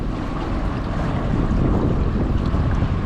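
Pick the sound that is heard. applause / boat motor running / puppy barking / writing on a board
boat motor running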